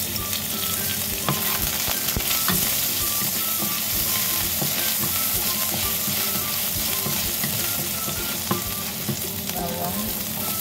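Ginger sautéing in leftover oil from frying fish and eggplant, a steady close sizzle with occasional stirring scrapes, no talk.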